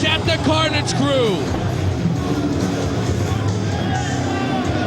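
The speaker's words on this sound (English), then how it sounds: "the crowd is chanting" A wrestling crowd at a Ring of Honor event chants in unison at the Carnage Crew, a loud, dense wall of massed voices with shouts and whoops carrying on steadily throughout.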